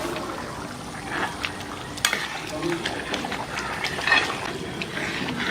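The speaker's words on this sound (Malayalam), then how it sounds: "ഇനി നല്ല രീതിയിൽ ഒന്ന് ഇളക്കിയെടുക്കണം" Squid roast being stirred in a pan over a wood-fired stove, village style: soft scraping and stirring over a steady low sizzle, with a sharper clatter around the two-second mark and a brief louder scrape near four seconds.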